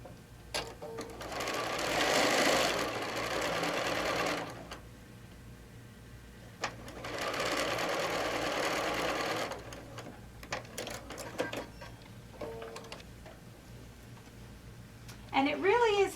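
Sewing machine stitching a crazy patch quilt block in two long steady bursts of rapid mechanical chatter, with quieter ticks, clicks and handling noises between them and a brief voice near the end.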